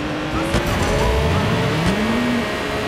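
A car accelerating in Watch Dogs 2, the engine note rising in pitch across a few seconds, loud and close over a noisy game mix.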